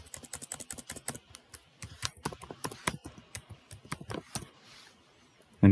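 Keys tapped on a computer keyboard, a close, fairly quiet run of quick irregular clicks with brief pauses.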